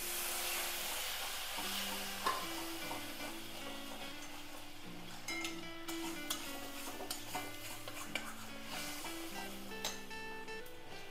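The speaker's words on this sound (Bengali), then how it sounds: "সামান্য জল দিয়ে কষাবো।" Cauliflower egg curry cooks down in a pan with a little water, giving a soft, low sizzle and intermittent scraping and clinking of a spoon stirring against the pan, quiet and close.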